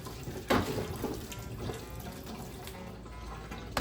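Cucumbers are washed under running water in a kitchen sink, a steady close splashing and gurgling flow with a few louder splashes as they are handled, and no talking.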